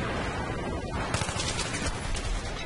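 Gunfire in the Battlefield 3 video game, a continuous crackling fusillade of rapid shots at moderate distance, steady and fairly quiet throughout.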